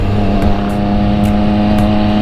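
A motorcycle engine drones steadily at cruising speed while riding on a road in San Ildefonso, Bulacan, loud and close with a constant hum and slight rise in revs, no talk.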